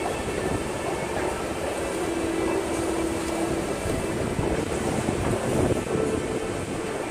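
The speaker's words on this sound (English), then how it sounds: "So it's a little bit windy." Wind blows outside a shopping center in Trinidad as a constant, close, broadband roar against the microphone, filling the whole stretch without pause.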